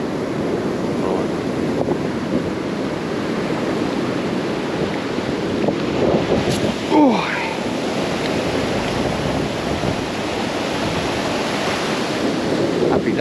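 Sea waves break and wash on Southbourne beach in Dorset during night beach fishing, a steady rushing surf with wind buffeting the microphone and a brief exclamation from a person.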